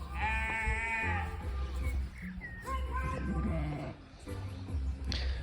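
Sheep bleating nearby, a few wavering calls mixed with people talking over them.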